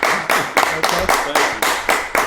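A ship's crew claps together in slow, loud, unified beats, roughly eight or nine strong claps at an even rhythm over about two seconds, heard up close with no talking.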